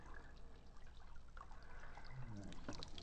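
Water trickling and spilling over a funnel during film developing, a steady low dribble with a few brighter splashes near the end, faint and close.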